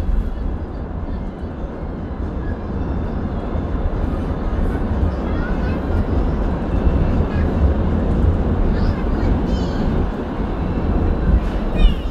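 Inside the KA Ranggajati business-class passenger train running from Jember to Cirebon, a constant loud low rumble and roar of wheels on rails fills the cabin, with faint voices in the background.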